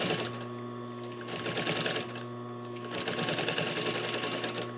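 A sewing machine stitches the top and bottom of a bench cushion in two bursts of rapid mechanical clatter with a short pause between them, heard close and without talk.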